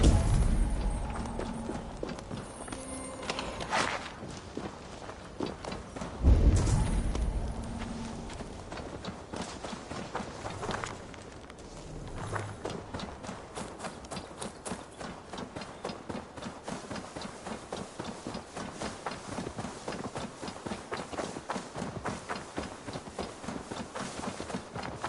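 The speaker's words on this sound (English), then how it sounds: "Now to deliver Magni his horse." Horse hooves clip-clop in Assassin's Creed Valhalla, a steady close rhythm of hoofbeats running through most of the stretch, with a louder thump partway through and brief pauses before the trotting resumes.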